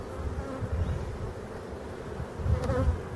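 Honey bees swarm over an opened hive, a dense, continuous buzzing hum close by that swells slightly near the end, with no voices.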